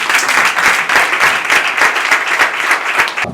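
A church congregation applauding, dense sustained clapping from many hands with a rhythmic pulse, loud and close, with no voices over it.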